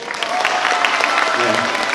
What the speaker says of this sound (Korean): 제가 이것만 해도 박수를 쳐주시고 그러더라고요